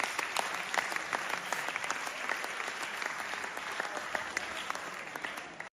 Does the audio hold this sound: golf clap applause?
yes